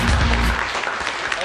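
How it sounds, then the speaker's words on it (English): Audience applause at a RoboGames event, a steady wash of clapping from a crowd filling the brief moment, with a low rumble underneath early on. "I would say like a big applause for RoboGames"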